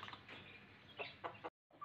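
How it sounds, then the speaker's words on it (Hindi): Hens settled on eggs on a rooftop, pecking at scattered grain, give off short soft clucks and scratchy pecking sounds at close range, with a brief gap of silence near the end. "ये मुर्गियां जो अंडों पे बैठी हुई हैं वो दाना पानी खा रही हैं"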